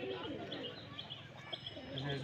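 A Govinda cooker pigeon coos softly in a Rajshahi giribaj pigeon loft, with faint chirps scattered throughout, distant and quiet beneath low murmuring voices.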